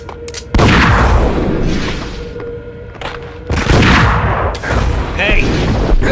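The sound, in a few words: gunfire in the video game Max Payne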